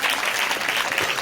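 Congregation at a church gathering clapping together in a steady, dense burst of applause that fills the room, close and loud with no voices over it.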